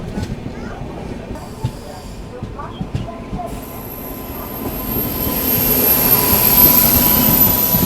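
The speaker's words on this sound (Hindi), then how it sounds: "देखो सामने भी कोई ट्रेन आ रही है जो कि लूप में लग रही है" A train pulls into a station loop at Rajapur Road on the Konkan line, wheels squealing in a high sustained screech that swells louder toward the end over rumbling rail noise, with voices faintly present.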